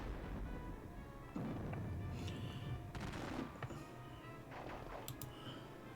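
Faint, distant crackle of musket volleys from Napoleonic battalions in a wargame, a few scattered pops and short bursts over a low steady background rumble, with no speech.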